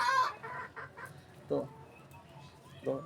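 Soft clucking from an 8-month-old fighting rooster in a few short bursts separated by pauses, close and fairly quiet, with faint voices in the background.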